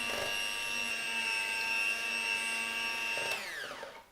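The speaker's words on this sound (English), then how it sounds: "Grab our beater, and just on a low speed, give it a quick mix." An electric hand beater whirs steadily on low speed through caster sugar, a bright sustained motor tone lasting a few seconds before switching off and spinning down.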